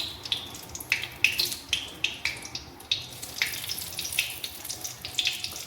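Dried red chilies and bay leaf tempering in hot oil in a wok, a steady sizzle with a run of sharp crackles and spits popping every half second or so, close and fairly quiet.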